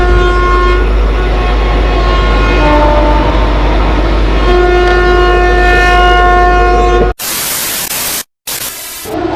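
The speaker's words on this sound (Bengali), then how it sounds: "one three zero three one Joynagar express এই ট্রেনটি কিন্তু মোট চারটে স্টেশন দাঁড়াবে" The 13031 Jaynagar Express passenger train runs loudly and close, a steady rumble under long sustained horn blasts, then the sound cuts to a harsh broadband roar with brief breaks.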